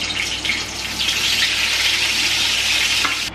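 Whole cloves, cinnamon, cardamom, black peppercorns and bay leaves sizzle loudly in hot oil, a dense, steady crackling hiss close by with no talk.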